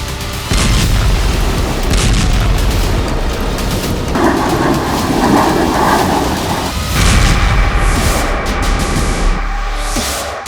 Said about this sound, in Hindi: ये वीडियो है एक ऐसी बमबारी का जो एर्दोआन के लड़ाकों को ताकत देगी।